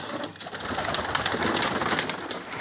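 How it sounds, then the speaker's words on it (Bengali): Pigeons coo softly amid a busy flutter of wings and rustling from a flock of pet pigeons being released for feeding, with a steady close, unbroken texture. "তো চলুন বন্ধুরা, কবুতরগুলো সব ছেড়ে দিই"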